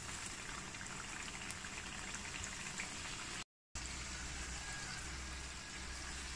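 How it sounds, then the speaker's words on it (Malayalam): Fish puffs deep-frying in a pan of hot oil give a steady, loud hiss and crackle of bubbling oil that runs on without a break, apart from one brief gap. "ബാച്ച് ബാച്ചായിട്ട് നമുക്ക് വറുത്തെടുക്കാം"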